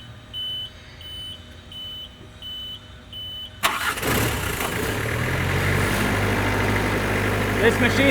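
A Miller engine-driven welding machine cranks and fires up after a few quiet beeps, then settles into a steady, loud engine idle that runs to the end.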